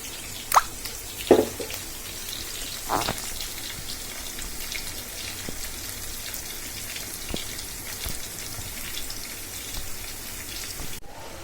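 Shredded cabbage fries with onion, garlic and green chili in a pan, making a steady crackling sizzle with a few louder pops near the start.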